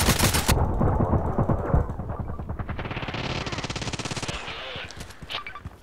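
Rapid automatic gunfire in the Contract Wars shooter game. Loud close bursts at the start give way to a long, steady string of evenly spaced shots. The volume rises and falls, and no talking is heard.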